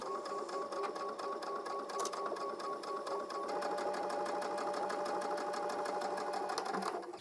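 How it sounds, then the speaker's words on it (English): Sewing machine stitching close to a folded fabric edge to hide a seam, a fast steady mechanical whirring with rapid even needle clatter, running continuously up close before stopping at the end. "What we're going to do is take this to our sewing machine and sew really close to this edge right here to conceal the seam."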